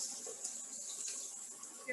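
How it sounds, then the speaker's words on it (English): Ginger tea is poured into a cooking pot for a pumpkin curry stew, a steady soft hiss of flowing liquid heard faintly and without a break. "you're gonna pour your ginger tea"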